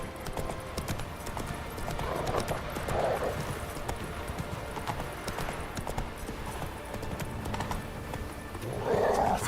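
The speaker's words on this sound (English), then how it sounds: "Run, Roach." Roach the horse gallops in The Witcher 3, hooves clip-clopping in a steady rhythm with a couple of whinnies over the running hoofbeats.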